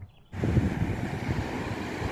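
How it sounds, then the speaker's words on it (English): Blustery seaside wind on a hazy day buffets the microphone after a brief quiet start, a rough low rumble with surf-like wash behind it, steady and fairly loud. "Very hazy and windy today."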